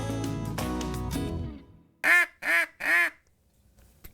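Three loud, close quacks from a Sure-Shot duck call, a handheld game call imitating a duck, each burst short and separated by brief pauses, following a stretch of other tonal sound.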